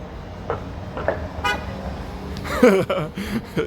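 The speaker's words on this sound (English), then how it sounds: "Guy honking the horn." A car horn gives a couple of short toots amid street traffic in Mexico, with a brief voice and passing vehicles in the background.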